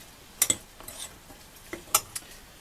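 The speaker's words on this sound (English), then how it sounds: "So they're going into my frying pan" Carrots tipped into a frying pan, a few sharp clattering knocks and scrapes in two small clusters, close and fairly quiet against a low background, with no talk.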